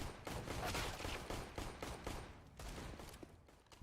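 Pistol fire in a Counter-Strike match on the Mirage map, a quick volley of sharp shots overlapping in an irregular rhythm, loud and fairly near, with no talk over it.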